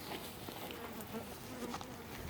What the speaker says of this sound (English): the bees were coming out around between them